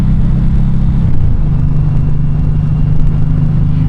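A Suzuki M90R or M109R cruiser motorcycle rumbles loudly at a steady pace while being ridden, its deep engine drone shifting pitch slightly as it settles into a cruise.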